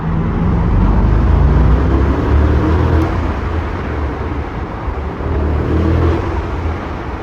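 A 2026 Maybach SL 680 engine in sport mode drones steadily from inside the cabin, a broad low rumble with mild swells as the car drives along.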